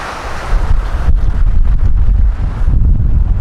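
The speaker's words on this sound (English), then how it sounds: "It's pretty windy." Strong gusts buffet the microphone on a mountain trail on San Jacinto along the Pacific Crest Trail, a loud, rough, continuous roar that surges and dips with the wind.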